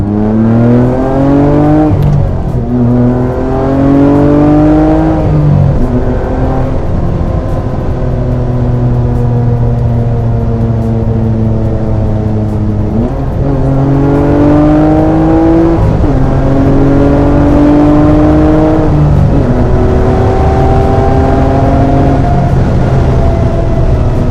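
A Rossion Q1 exotic car accelerates hard, its engine note climbing loud and steady through repeated rising sweeps as it shifts and picks up speed, with no voices.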